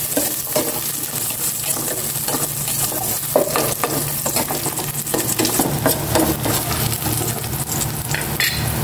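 Garlic fries in a hot pan with a loud, dense, continuous sizzle, stirred now and then with light scraping and metal clinks, close by and without talk.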